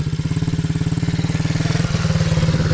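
A motorcycle engine given light throttle, a fast, even low thumping pulse that rises slightly in pitch as the revs climb, loud and close with no talk.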